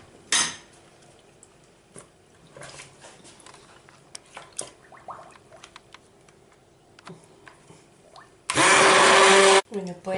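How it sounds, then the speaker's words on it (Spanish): Kitchen clatter and brief handling noises give way to a loud, steady electric hand blender whirring through homemade liquid dish soap for about a second near the end. "Ahora voy a coger con la batidora y lo voy"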